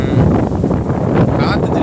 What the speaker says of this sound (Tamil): காற்று ஜிலு ஜிலு ஜம்முன்னு அடிக்குது பாருங்க, ஜிலு ஜிலு வென்று பூங்காற்று.